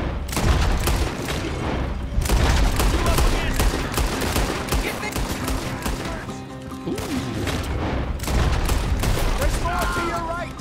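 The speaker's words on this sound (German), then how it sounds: "du willst jetzt nicht mit der scheiß Shotgun hier schießen" Shotgun blasts and other gunfire crack through a busy Red Dead Redemption 2 gunfight in the town of Rhodes, with loud repeated shots in rapid, irregular bursts under shouted voices.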